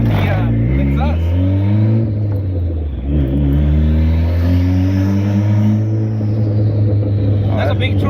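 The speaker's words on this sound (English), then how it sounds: "you hear that turbo though?" A turbocharged Honda Civic D16Z6 engine with the exhaust removed revs up and holds a deep, loud roar with rising and falling pitch, a turbo whine riding over it, while people talk nearby.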